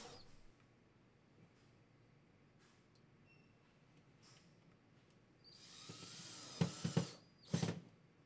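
Power drill driving screws to fasten a GOJO ADX-12 soap dispenser to a wall: after a quiet stretch with faint clicks, two loud whirring bursts, the second shorter, sit close and alone.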